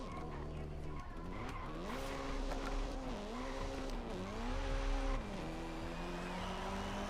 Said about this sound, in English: I can hold the handbrake and lock up that rear tire